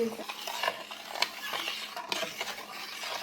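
A foaming cleaning mixture for tile grout being stirred, a soft, busy swishing and scraping with faint clinks, fairly quiet and close.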